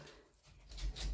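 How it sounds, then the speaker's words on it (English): Brief low growling and grumbling from dogs playing, fairly close, with a short rough burst near the end. "Please excuse the dogs, it sounds vicious."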